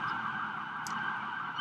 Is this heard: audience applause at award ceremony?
no